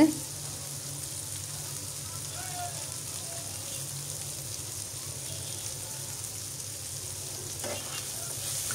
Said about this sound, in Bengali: পেঁয়াজগুলো প্রায় ভাজা হয়ে যাচ্ছে।